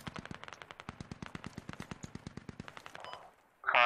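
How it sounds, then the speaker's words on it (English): Rapid AK rifle fire in the tactical shooter Squad, a steady burst of about two dozen evenly spaced sharp shots at moderate distance, followed by a brief louder crack at the end. "do you hear that AK fire to the southeast?"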